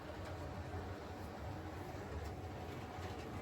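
An OO gauge model railway locomotive runs steadily along the track, a faint continuous rumble with soft rhythmic clicking, quiet and even throughout with no talking.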